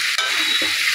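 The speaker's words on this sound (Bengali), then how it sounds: "ছড়িগুলো ভেজে নেব।" Taro stalks fry in a pan, giving a brief, steady hiss of sizzling oil with a soft stir partway through, close and alone.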